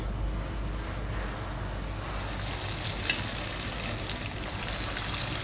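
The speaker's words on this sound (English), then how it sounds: "Once the oil is hot, add in the prawns." Prawns dropped into hot oil for deep frying, a quiet hiss that bursts into loud, steady sizzling and bubbling partway through, close and continuous with no talk.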